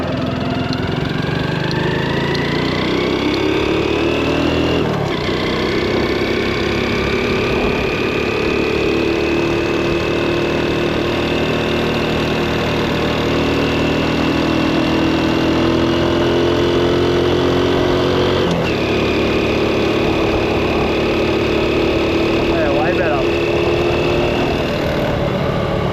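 Honda NBC110 with a 130cc big bore kit climbs a hill in 3rd gear at about 60 km/h. Its small single-cylinder engine drones steadily and loudly under load, with wind rush and rising and falling pitch, and no one speaks.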